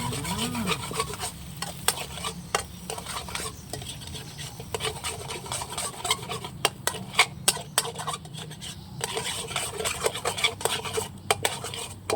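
Eggs stir-fried in a pan as the base for spicy Thai-style fried rice, with a steady scraping and clinking of a spatula against metal and frequent sharp taps, all fairly close and without speech.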